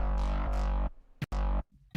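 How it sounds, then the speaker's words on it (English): A thick, buzzing Reese bass synth plays two sustained notes with a short gap between them, alone and fairly loud. "a simple basic Reese that sounds like this"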